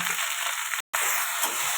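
Steady, bright sizzle of okra with salt and turmeric frying in a hot pan, loud and close, with a brief dropout of silence partway through.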